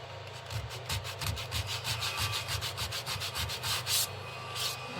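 Wood being hand-sanded with 80 grit sandpaper for a serving tray, a steady run of rapid rhythmic rasping strokes, close and fairly loud, alone without talk.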